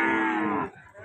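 A single loud, close cow moo from cattle at a heifer market, a long drawn-out low call lasting most of a second before trailing into quieter pen noise.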